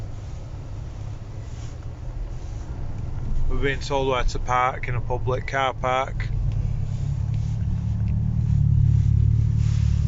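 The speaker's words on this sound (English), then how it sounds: "So there's Chan pulling in." A Mitsubishi Evo 6 rolls into a car park at a cars and coffee meet, its low engine rumble steady under a passing voice and wind buffeting, growing slightly louder toward the end as it draws near.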